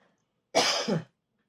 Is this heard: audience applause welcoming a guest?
no